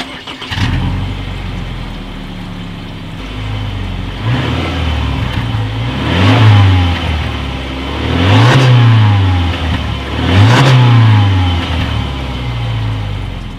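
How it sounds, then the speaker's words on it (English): Single-outlet exhaust of a 2019 Subaru Forester revving from idle, with three distinct throttle blips rising and falling over a steady idle, loud and close, no talking. "As always, here is that exhaust clip."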